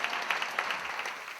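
Audience applause at a Korean church Bible lecture on Proverbs, a dense steady patter of many hands clapping at once, fairly loud and continuous through the whole moment with no speech over it.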